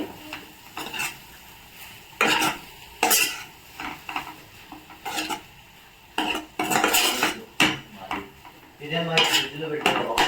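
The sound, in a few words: mixing smashed potatoes for aloo curry in a pan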